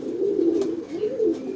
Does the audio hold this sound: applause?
no